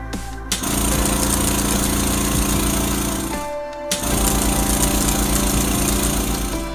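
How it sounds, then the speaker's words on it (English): Transformers Rescue Bots toy jackhammer sound effect: a loud, steady electronic rattling hammer buzz that runs continuously, cuts out briefly for a moment near the middle, then resumes at full strength. "Walker and his rescue Jackhammer to the rescue"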